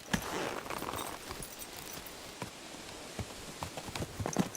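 A horse walks in Kingdom Come Deliverance 2, its hooves clip-clopping in an uneven, moderately quiet rhythm of separate thuds over a soft ambient background.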